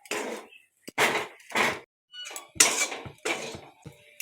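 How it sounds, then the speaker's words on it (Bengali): Fish filling and bread being mixed by hand in a bowl for fish fingers, a series of separate clattering, scraping bursts of utensil against dish with short pauses between, close and moderately loud, no talking. "ভালো করে মিশিয়ে নেব।"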